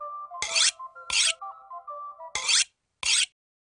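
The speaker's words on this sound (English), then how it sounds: "and knife sharpening." Knife sharpening at a market in the Pilgrim adventure game: four rasping scrapes of blade on stone, each short and gritty, sound close over a faint steady musical drone.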